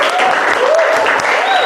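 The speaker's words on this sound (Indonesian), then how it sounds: "Tepuk tangan buat kita semua." A classroom group applauds after student presentations, a short burst of loud, dense clapping from many hands heard up close.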